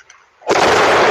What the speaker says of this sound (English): a compromised natural gas line was the cause of an explosion Sunday morning